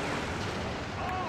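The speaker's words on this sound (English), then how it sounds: "He's just shooting at them." Loud, dense gunfire fills a James Bond film scene, a continuous burst of shots and blasts with no pause.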